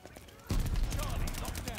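Machine gun fire rattles in the Call of Duty Vanguard video game, a sudden rapid burst of dense, loud shots that keeps going after a quieter start, with a voice talking over it.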